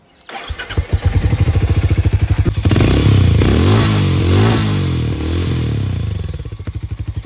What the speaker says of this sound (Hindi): अब करते हैं बाइक को स्टार्ट और करवाता हूँ इस बाइक की साउंड टेस्ट